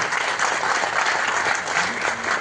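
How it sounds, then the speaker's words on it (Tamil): An audience applauding at a film music launch event, loud continuous clapping from a large crowd, unbroken for the whole moment. "கருணா சாருக்கு நல்ல மிகப்பெரிய கரகோஷம் கொடுங்க"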